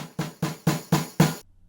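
Layered, lightly V-edited drum hit on a Roland V71 electronic kit, struck five times at an even pace, each a punchy close thump with a short decay, then silence.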